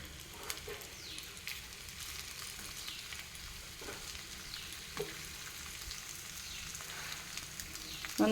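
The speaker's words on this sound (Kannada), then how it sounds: "ಎರಡು ಬದಿಯು ಚೆಂದ ಮಾಡಿ ಫ್ರೈ ಮಾಡಿಕೊಳ್ಬೇಕು" Pathrode slices, the spiced colocasia-leaf rolls, shallow-frying in oil on a pan, giving a faint, steady sizzle with small pops and occasional soft clatters throughout, no talking.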